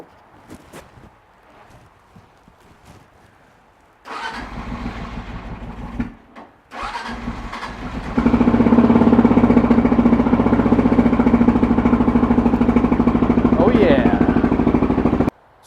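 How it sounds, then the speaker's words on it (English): A Kawasaki KLR650 motorcycle with a new Odyssey PC545 AGM battery cranks briefly, then fires up and settles into a loud, steady single-cylinder idle close by, after some quiet rustling and handling sounds. "So the new battery fires the bike right up."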